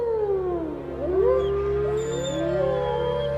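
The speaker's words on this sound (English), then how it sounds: "They howl to locate themselves in space, to let other wolves know their position, and to send each other a signal to hunt." Several wolves howl together in long, wavering, gliding tones that rise and fall and overlap one another, sounding fairly close and clear over a low background hum.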